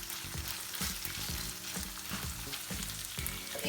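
Chicken fries in a pan with tomato paste, giving a dense steady sizzle up close with soft rhythmic stirring thumps underneath, no talk.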